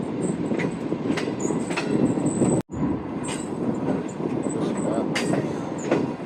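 Shalimar Express passenger train with a hot axle running on rails: a loud, close, continuous rumble with clattering wheels, clickety-clack beats and high metallic squeals, broken once by a brief dropout.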